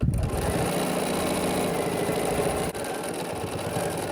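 A sewing machine stitches binding onto a peppermint tree skirt, a steady fast mechanical whir with rapid needle clatter running close and uninterrupted apart from a brief dip midway.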